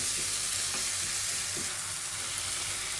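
Chopped tomato is stirred into a frying macaroni masala, giving a close, steady sizzle and crackle under faint scraping as the mixture is turned. It stays even throughout, with no voices.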